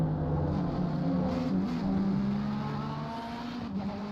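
Bentley GT3 race car engine in Assetto Corsa Competizione at Zolder, a steady droning engine note held under a lower hum, moderately faint and continuous with no voices.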